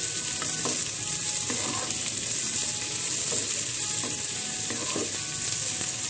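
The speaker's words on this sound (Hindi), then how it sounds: "हमने एक पूरी ओनियन काटा था छोटा छोटा करके, इसको डालेंगे, इसको थोड़ा भूनेंगे" Finely chopped onion fries in a pan with a constant bright sizzle, while occasional soft stirring scrapes and clicks come through at close range; no talking.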